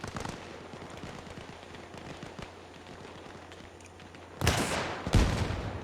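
An RPG fires at a BTR armored vehicle in a military video game: two loud, sharp blasts land close together near the end, after a stretch of faint scattered clatter.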